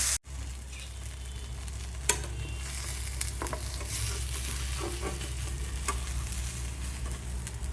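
Kingfish pieces coated in rava sizzle steadily on a hot tawa, a constant crackling fry with occasional sharper pops and a low hum underneath, no voices present.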